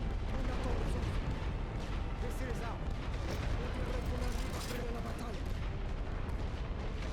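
Enemy artillery fire in The Great War: Western Front, a World War I strategy game, making a dense, steady rumble of distant booms and bursts under spoken voices throughout.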